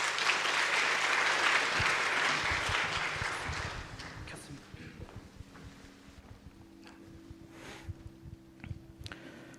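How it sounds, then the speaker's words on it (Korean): A church congregation at a Sunday evening service applauds to welcome a speaker, a burst of clapping that is loud at first and then thins out and fades, leaving scattered faint claps and room noise. "우리 박수로 환영합시다"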